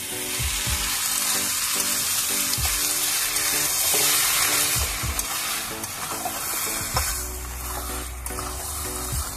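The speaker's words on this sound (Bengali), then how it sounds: "এবারে আমি ডালটা ঢেলে দিলাম।" Lentil dal pours into a hot pan of melted tomato for egg tadka, a steady sizzle and stirring noise running throughout with a few soft knocks, fairly close and no voices.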